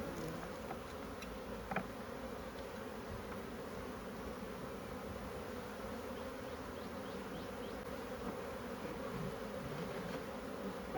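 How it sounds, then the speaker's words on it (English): Honeybees from a transferred nuc or swarm buzzing around the side of a hive box, a dense, steady hum of many wings close by, unbroken throughout with no talking. "Bees are trying to show up to the side of the box here"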